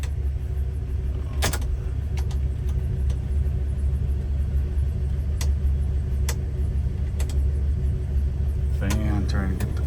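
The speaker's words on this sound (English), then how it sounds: "We're going to start up our Olds 88." A 1963 Oldsmobile 88 engine runs at a steady, low rumbling idle nearby, with a few brief clicks and knocks on top and a short burst of sound near the end.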